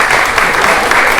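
An audience at an evening event honoring women claps in a short, dense burst, loud and close, with no pauses.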